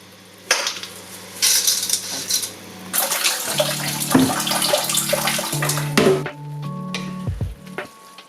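A pot of water at a rolling boil for linguine, a loud bubbling, hissing rush up close with clinks of a pot and utensils near the end.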